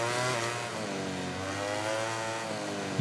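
Racing motorcycle in MotoGP 18 braking heavily into a hairpin, its engine note holding a steady, sustained drone with shifting harmonics as revs rise and fall, loud and continuous throughout.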